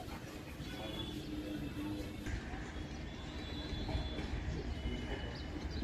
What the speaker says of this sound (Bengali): এরপরেই আমাদের ট্রেন শিয়ালদহ সাউথ লাইনে ঢুকবে।